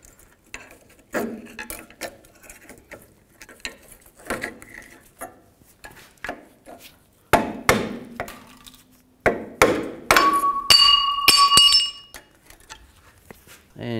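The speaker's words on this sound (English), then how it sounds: "Take the brake pads off, just use the same straight blade screwdriver." Metal clinks and sharp taps ring out as a straight blade screwdriver pries the rear brake pads off a caliper on a 2000-06 GMC Yukon, irregular close knocks and scrapes with brief ringing tones near the end.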